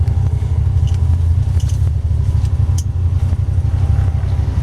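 A 1931 Ford Model 5W coupe hot rod runs at the front of a garage with a steady, loud, low engine rumble that holds evenly throughout, with no voices.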